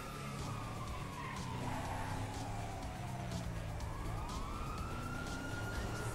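A police car siren sweeps up and down as the patrol car approaches in GTA V on PS4, loud and steady over engine noise and tyre skids, with no talk.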